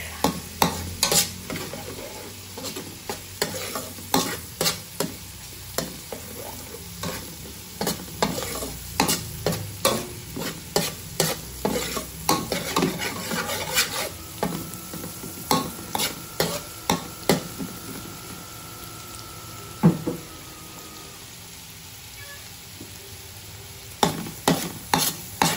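Garlic frying in a pan, a steady sizzle running throughout with repeated sharp clacks of a utensil stirring against the pan at a fairly regular pace, close and clear with no talk.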